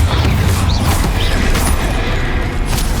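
A Confringo blasting spell goes off in a troll fight in Hogwarts Legacy, a loud, dense burst with heavy low rumble and crackle that holds steady for about three seconds.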